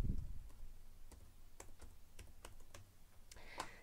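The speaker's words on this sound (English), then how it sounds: "I'm going to type in my number because I want to send myself the message" Faint, sparse clicks of a computer keyboard as a phone number is entered, individual keystrokes spaced irregularly in a quiet room with no talking.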